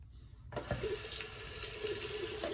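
Water gushing steadily from a tap into a sink to wet the face before shaving, starting abruptly and running close and loud to the end, no voices.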